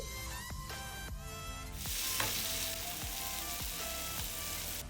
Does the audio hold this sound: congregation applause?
no